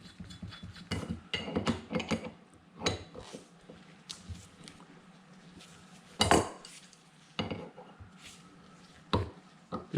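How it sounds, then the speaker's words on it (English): A thread chaser cleans the threads on a Humvee M998A1 part, giving irregular metallic clinks, scrapes and ratcheting clicks in short bursts, close up and without talk. "Run a thread chaser down it."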